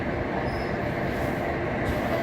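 A London Underground Jubilee line 1996 stock train running, a steady close rumble of wheels and motors with faint squeal, heard from inside the carriage with no talk.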